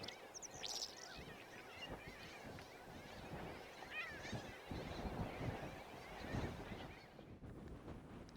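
Gulls give scattered, faint cries in the distance over a soft wash of open-air noise.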